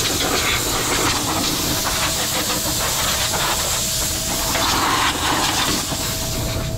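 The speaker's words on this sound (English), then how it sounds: "we're just gonna blow it out with nitro" Nitrogen is blown through HVAC piping on an LG Multi V 4 system to clear insulation. A loud, continuous rushing hiss of escaping gas holds steady for several seconds with no speech.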